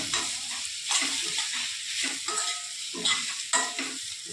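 Bottle gourd muthiya pieces are stirred through a sizzling asafoetida and curry leaf vaghar, giving a close, continuous frying hiss with regular scraping swells from the spoon.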